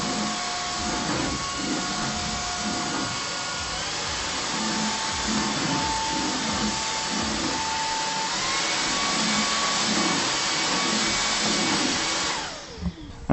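A TOPPIN cordless stick vacuum cleaner runs with a steady, loud motor whine and airy rush, shifting pitch slightly midway as the mode changes, then winding down at the end.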